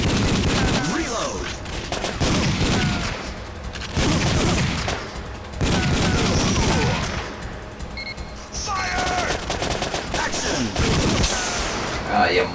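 Bursts of rapid gunfire from the PlayStation light-gun shooter Time Crisis, loud volleys and single shots in repeated clusters with short gaps, plus game sound effects between.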